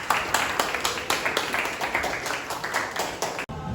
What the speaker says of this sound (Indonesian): Beri tepuk tangan saya.